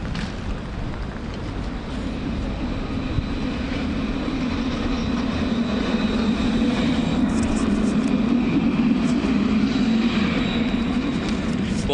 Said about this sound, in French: Tiens, un tramway qui arrive.